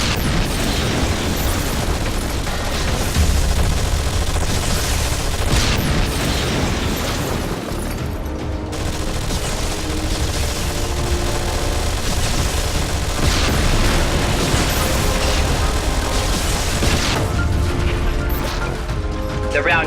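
Squad units in Anomaly 2 keep up continuous weapons fire, a steady roar of rapid shots and explosive bursts over a loud mechanical din with game music.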